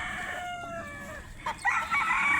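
A rooster crows loudly and close by at a chicken farm, drawing out one long, wavering call, then a second bird's crow rises near the end with other fowl faintly in the background.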